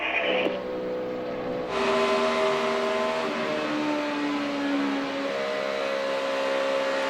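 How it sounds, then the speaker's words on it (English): NASCAR Sprint Cup race car recorded from a roof-mounted camera during qualifying for the All-Star Race at Charlotte, engine droning steadily at high throttle through the turns, with pitch shifts and a sharp rise partway, loud and continuous with no talk. "Let's take a listen to the throttle going through 3 and 4 for the pit stop."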